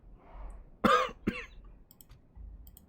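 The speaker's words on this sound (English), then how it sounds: "So I'm coughing." Two sharp coughs in quick succession, close and fairly loud, against a quiet background.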